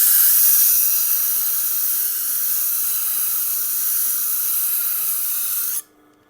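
Upholstery scissors held against a Tormek grinder wheel give a steady, loud hiss of steel on stone that runs for nearly six seconds, then cuts off abruptly, with no talking.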